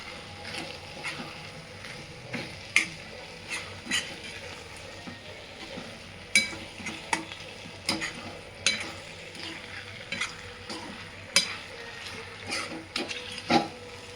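Paneer pieces sizzling in a kadai while a utensil repeatedly scrapes and clatters against it in irregular bursts of stirring.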